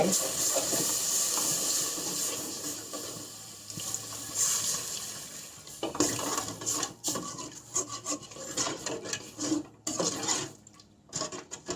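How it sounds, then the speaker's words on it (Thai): Water pours into a pot of simmering Thai curry for crab noodle sauce, a steady splashing, rubbing wash close by with scraping and clattering bursts toward the end. "เราก็ใส่น้ำลงไป"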